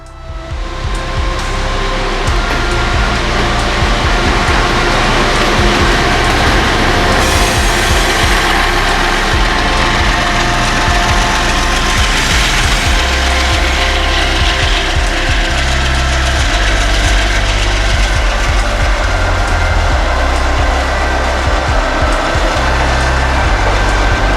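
Intermodal freight train pulling out of Inman Yard on the NS line, a loud, steady engine drone with continuous rumbling and rail noise that holds throughout, with no voices.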